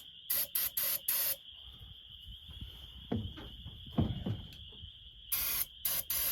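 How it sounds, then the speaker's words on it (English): Starter fluid is sprayed into the engine of a 1981 Toyota 4x4 in short hissing bursts: four quick sprays at the start and three more near the end, with quieter clanks and rustling between them. "I'm going to attempt to keep it running on spray this time since I found a new bottle of starter"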